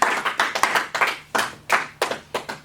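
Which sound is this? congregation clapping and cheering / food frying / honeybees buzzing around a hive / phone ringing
congregation clapping and cheering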